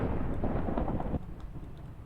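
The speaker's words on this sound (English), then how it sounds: "Hopefully that thunderstorm's not overshadowing me" Thunderstorm in Minecraft: a deep, loud rolling rumble of thunder that drops off abruptly halfway and leaves a quieter lingering roar.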